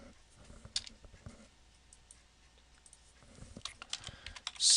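Keys on a computer keyboard patter in light, uneven taps alongside a few sharper mouse clicks, close and quiet, swelling into a denser flurry near the end.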